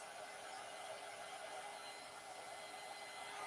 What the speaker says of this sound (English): And drying the back side helps flatten it out too.